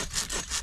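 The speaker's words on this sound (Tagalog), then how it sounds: "Dati kutsilyo lang, ngayon lagari na." A hand saw cuts through wood at a riverside camp where food is being prepared, giving three rasping strokes in a steady rhythm, close and fairly loud.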